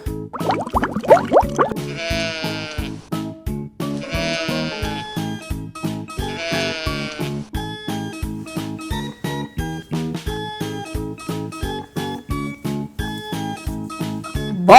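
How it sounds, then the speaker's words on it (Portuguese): A sheep bleats three times in a row over bouncy, rhythmic children's music in an animal-names toy playtime, each bleat loud and clear above the steady beat. "Ovelha,"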